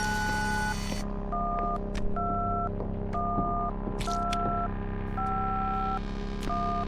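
Telephone keypad dialing tones in the horror video game Obey the Voice: a run of paired beeps, each about half a second, pressed one after another at a steady pace over a constant low electronic hum, with a few short clicks between them.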